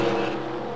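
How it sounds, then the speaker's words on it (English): A stock car in a racing video game scrapes along the wall, a loud, steady grinding engine roar held throughout with no voices. "Car scraping the wall again, that time Stephen Pollard III"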